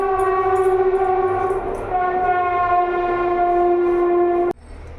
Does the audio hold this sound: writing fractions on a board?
no